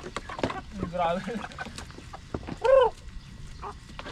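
Backyard chickens just released from their coop clucking in short bursts near feeding time, with a couple of louder calls standing out over quiet background noise.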